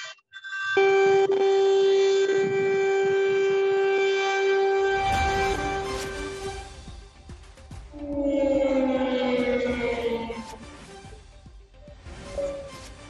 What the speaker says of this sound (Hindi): जिस तरह से अब लगातार सायरन की आवाज आसमान में गूंज रही है